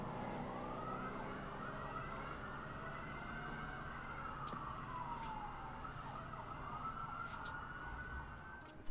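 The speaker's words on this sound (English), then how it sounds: "then the police siren going on" An AI-generated police siren wails in a rising and falling sweep, fairly faint and continuous, with a few sharp clicks and knocks over it.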